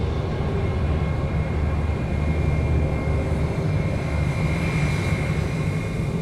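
Qantas freight aircraft departing Sydney Airport at night, a steady broadband engine roar with tonal whine lines holding loud and continuous throughout, no talk over it.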